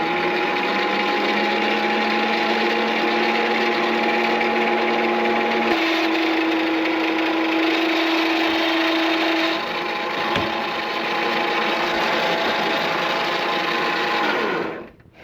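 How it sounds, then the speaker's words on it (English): A metal lathe chamfers and bores a metal adapter for a rotary table encoder, giving a steady, loud machine hum with a whining cutting tone that shifts pitch partway through, then stops abruptly at the end. "now go ahead and chamfer that edge and start boring."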